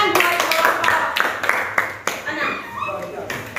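Students in a classroom clap for a classmate, a brisk burst of close hand claps under loud chatter and voices.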